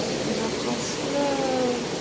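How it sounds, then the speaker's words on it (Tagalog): Heavy rain pouring down in a sudden downpour, a steady, dense hiss with water running off the roof gutter, and a voice speaking over it. "Lakas ng ulan."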